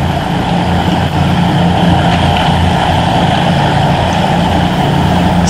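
A loud, steady engine roar from a car being driven in the video game DayZ, a constant heavy drone with no pauses, heard alone with no voices.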